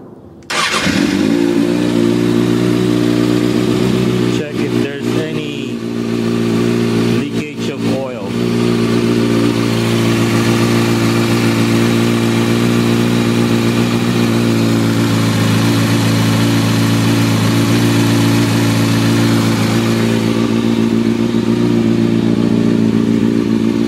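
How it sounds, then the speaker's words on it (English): A Kawasaki Ninja ZX6R sport bike engine starts and settles into a steady, loud idle close by, with a couple of brief dips in the rumble partway through and no talk over it. "Then just start the engine."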